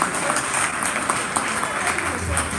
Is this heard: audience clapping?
yes